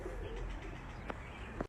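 Pigeons coo softly in low, rolling murmurs under a steady background rumble, with a brief sharp knock at the end.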